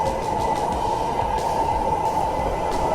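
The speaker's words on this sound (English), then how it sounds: "this is the southbound train" A southbound light rail train in Houston, Texas rumbles past nearby, a steady loud roar of wheels on rails with a droning hum and faint rhythmic clatter.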